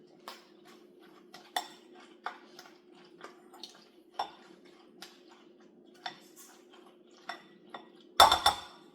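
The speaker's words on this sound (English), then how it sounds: "Start mixing it and seeing exactly where you want it to be as far as your macaroni pepper onion ratio." Spoon stirring macaroni salad with pepper and onion in a bowl, soft repeated clinks and scrapes at a slow, steady rhythm, close up, ending in a louder clatter, with no talking.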